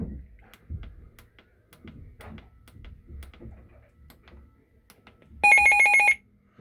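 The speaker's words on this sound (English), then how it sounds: "See, it sounds more like an old-fashioned telephone in a way." A weather radio alert tone sounds like an old-fashioned telephone ring: a loud, rapid trilling burst lasting under a second near the end, after quiet handling clicks and thumps.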